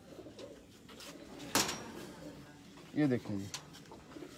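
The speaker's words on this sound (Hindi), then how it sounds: "ये दूसरा दिखाते हैं जी कबूतर" A pigeon coos briefly, a low warbling call standing out under nearby conversation and a sharp handling click.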